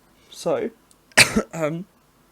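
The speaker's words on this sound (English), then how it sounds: "need to stop coughing in videos" Two or three short, rough coughs close to the microphone, separated by brief pauses, with a throat-clearing quality.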